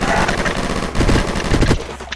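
Loud automatic gunfire in an online video game, a dense rattling burst of shots over busy game sound, with a voice talking briefly in the middle.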